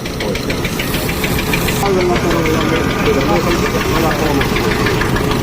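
Loud, rhythmic knocking of an old engine running close by, with a steady mechanical clatter and rumble from the threshing machine it powers.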